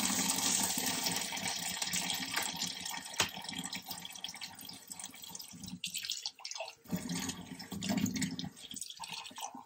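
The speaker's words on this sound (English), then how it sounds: "We're going to rinse our cups." Water runs from a tap into a sink while cups are rinsed, a steady splashing stream that briefly drops away and then resumes, fairly quiet with no voices.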